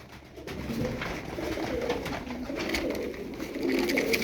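Female Turkish tumbler pigeons coo softly and repeatedly nearby, low throaty rolling calls overlapping in a continuous murmur with no talking.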